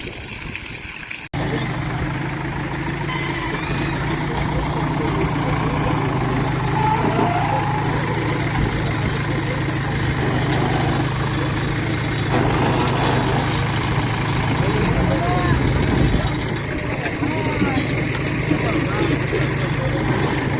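A JCB loader runs its engine steadily while loading manure into a tractor, a continuous low rumble near and loud, with people talking over it throughout.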